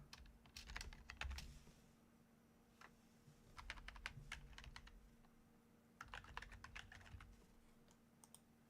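Keys clack on a computer keyboard in short, quick bursts of typing separated by pauses, faint and close over a low steady hum, with no voices.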